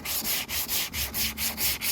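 Rhythmic hand sanding of body filler on a car bumper being repaired after a wall scuff, with eight or nine even back-and-forth strokes of abrasive scraping close by, steady and fairly loud with no talking.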